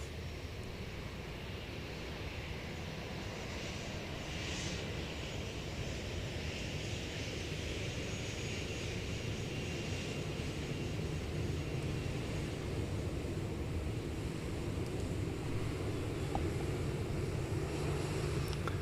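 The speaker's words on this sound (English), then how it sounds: "Swing around real quick for a 777 arrival." A Korean Air Boeing 777-300ER arrives from Beijing, its engines a faint, steady distant roar mixed with wind hiss and broadband rumble throughout.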